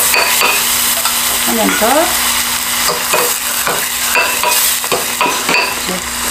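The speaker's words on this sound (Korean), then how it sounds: "돌아가시면서 돌리면서 볶아주세요" Jjamppong ingredients are stir-fried over high heat in a wok, a loud continuous sizzle broken by scraping stir strokes and light metallic clinks, with a brief quiet voice in the background.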